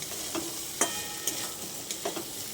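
Quiet stirring of a pasta mixture in a pan: a soft background sizzle with a handful of light utensil scrapes and taps spaced unevenly, close but low in level, no talking.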